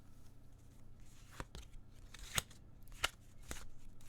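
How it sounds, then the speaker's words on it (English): A deck of playing cards being shuffled by hand, heard as several quick, sharp riffling bursts at close range against a quiet background. "Would you please shuffle those cards?"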